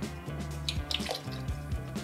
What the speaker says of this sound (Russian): Сразу наливаю 20-ку аршада.